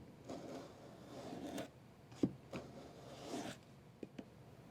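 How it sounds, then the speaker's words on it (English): A sharpened veneer saw draws through thin wood veneer in single-direction strokes, giving soft, close rasping scrapes separated by brief pauses and a few small clicks, quiet with no talking. "with the veneer saw I'm only going to go in one direction, and I'm going to use the whole curve of the blade"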